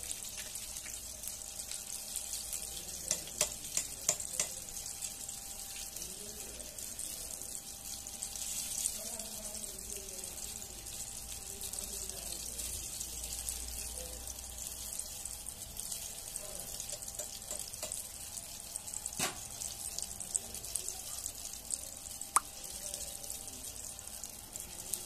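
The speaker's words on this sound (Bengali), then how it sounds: "এখন আমি এটাকে আপনার ফ্রাই করছি" Chicken pieces deep-frying in hot oil for a KFC-style crispy fried chicken, giving a steady, continuous bubbling hiss throughout with a few brief clicks and knocks, no talking.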